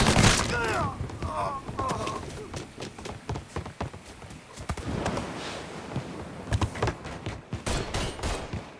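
Rapid bursts of gunfire trade back and forth in a Mafia III crossfire, sharp cracks and thumps coming in dense clusters throughout, with brief vocal shouts near the start.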